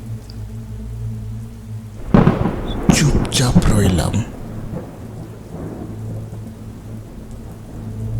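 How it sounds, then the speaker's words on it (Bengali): A cartoon horror-story storm effect: a loud thunderclap crashes and rumbles for about two seconds over steady rain and a low hum, while a narrator speaks softly. "বাইরে ঝড়ের গতি আরো উদ্দাম।"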